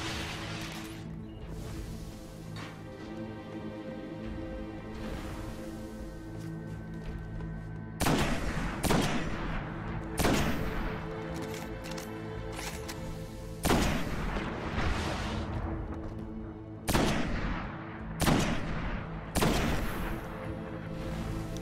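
Heavy sniper rifle shots in Destiny, several loud booming cracks spaced a few seconds apart, each with a ringing tail, over a steady game music and ambience bed.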